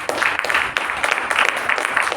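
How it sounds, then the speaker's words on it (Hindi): An audience claps loudly and steadily in a hall during a DXN new-distributor training session in Lucknow, with the dense clapping holding for about two seconds. "भी जोरदार तालियां प्रोफेसर साहब के लिए"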